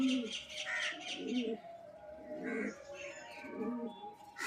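Pigeons cooing in repeated soft, throaty calls with light chirps in between, moderately close, while a person talks in the background.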